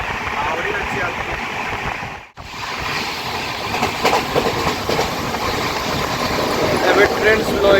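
Prasanti Express running beside Chilika Lake as it slows, a steady broadband rumble of wheels with faint clickety-clack rhythm, briefly dropping out near the start, with speech heard over it.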